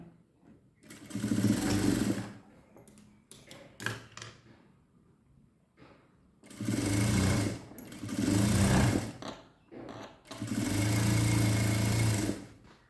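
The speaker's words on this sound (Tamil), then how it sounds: "ஒரு கால் இன்ச்சில் ஒரு தையல் ஓட்டிகிட்டு வரோங்க" Sewing machine running a quarter-inch stitching seam on fabric panels, several loud buzzing bursts of a few seconds each separated by short pauses and handling noises, close by and without talk.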